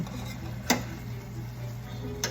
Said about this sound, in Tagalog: So, baliktarin muna natin yung isda natin.